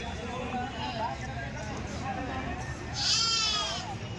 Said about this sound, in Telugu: ఇలా తీసుకొచ్చి అమ్ముతారండి మంచి మంచి మేకలు